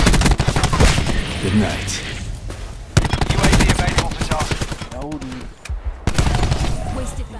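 Maddox rifle fire in Black Ops 4 rattles out in rapid, dense automatic bursts with brief pauses between strings, loud and close, while a player talks over it.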